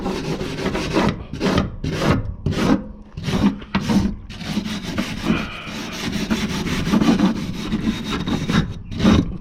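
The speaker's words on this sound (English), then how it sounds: "Look at the difference you can make just by quickly giving it a wire brush down." A wire brush scrubbing surface rust off metal on an old horse box, loud rhythmic rasping strokes in quick succession, close and continuous.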